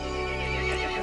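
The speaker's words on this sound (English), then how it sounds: "The horse grew angry and summoned the other monsters." A horse neighs angrily as a storybook sound effect, a loud, sustained whinny filling the whole moment with no talk over it.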